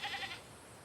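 A goat bleats once in brief, quavering bursts at a farm, faint and at a distance, fading into quiet background noise within half a second.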